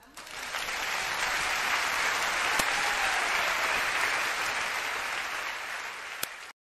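A church congregation applauds to acclaim the Lord after a Hail Mary prayer, a sustained wash of clapping that holds steady for several seconds, then tapers and cuts off.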